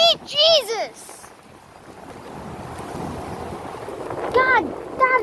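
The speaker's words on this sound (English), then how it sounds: "that wind gust was so goddamn powerful" A powerful wind gust roars through a windstorm in Ronkonkoma, New York, a broad rushing wash that swells and holds for several seconds, with excited voices calling out at the start and end.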